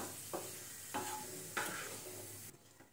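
Raisins stirred and fried in ghee for Marathi poha ladoo: three or four distinct scraping stirs of a spoon in the pan over a faint, soft sizzle, quiet and close, then a sudden drop to near silence at the end.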